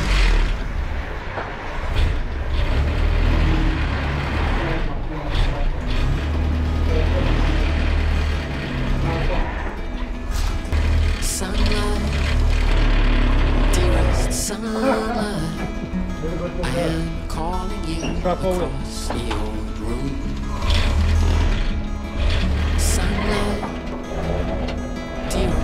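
Land Rover Series 1 107 driven on a test drive after restoration, with rattling mechanical clatter and gear whine over a low engine drone, and people talking over the noise.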